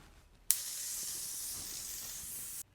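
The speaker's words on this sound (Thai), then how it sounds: "ขาดไม่ได้เลยเซตติ้งสเปรย์รอยัลนะคะ" A Royal setting spray mists over finished makeup in a single continuous hissing burst of about two seconds, sharp at the start and then even, heard alone in a quiet room.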